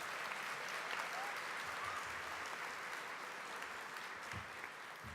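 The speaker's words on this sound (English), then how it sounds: "Another big round of applause for her, please" An audience at an award ceremony applauds steadily, a dense even wash of clapping from many hands that holds at the same level throughout and tapers only slightly at the end.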